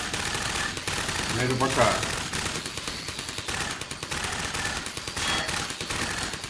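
Machine gun fire in the video game Half-Life 2: Episode Two, rapid dense bursts of gunshots running throughout, loud, with someone talking in Russian over the shooting.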